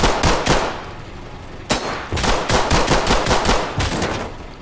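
Rapid automatic gunfire in the tactical police shooter Ready or Not, loud and close, firing in two sustained bursts of fast, evenly spaced shots with a brief break between them, no talk.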